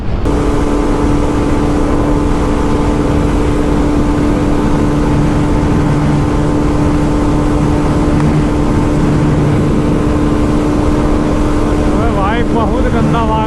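A Bajaj Pulsar RS200 motorcycle running flat out in fifth gear during a drag race, a loud continuous engine drone mixed with heavy wind rush, steady and close, with a faint rising tone near the end.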